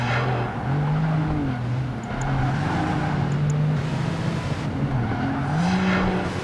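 A sports coupe races in Project Gotham Racing 2, its engine note droning and rising and falling through revs and gear changes, continuous and fairly loud.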